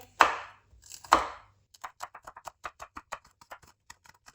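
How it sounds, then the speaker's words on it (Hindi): Two green chilies chopped with a knife on a board. Two loud single strikes come first, then a fast run of lighter, evenly spaced taps, all close and with no talking. "अब यहाँ पे मैंने 2 ग्रीन चिली ली है, इनकी भी कटिंग कर लेंगे।"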